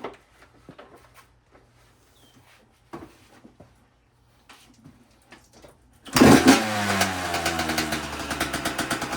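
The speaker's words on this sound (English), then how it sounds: "So it did start on the first kick" A 2011 Yamaha YZ125 dirt bike with a leaking carburetor kicks over and starts after quiet clicks and shuffling, then runs loud and close with a raspy two-stroke idle.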